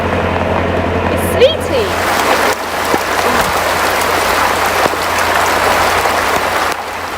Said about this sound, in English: we've got some nice refreshing rain. It's sleety.